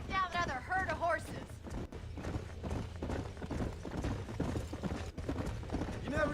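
Horse hooves clip-clop steadily in Red Dead Redemption, a continuous rhythmic trot under a low background bed, with a brief whinny early on and people talking over it.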